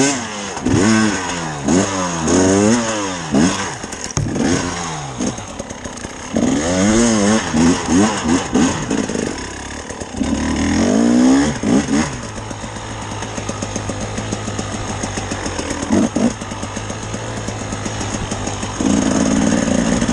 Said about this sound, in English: Hey, a dirt bike!